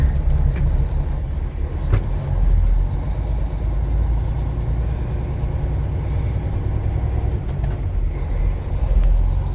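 A Freightliner truck with total clutch failure and low air pressure rumbles along in gear, a loud, continuous close engine drone with a brief hiss or clunk and no talking.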